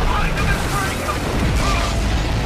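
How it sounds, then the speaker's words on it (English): Singularity cannon firing in the video game Crysis Warhead: a loud, sustained, rumbling blast with a dense roar that fills the whole clip, heard up close. "I believe that's known as the singularity cannon."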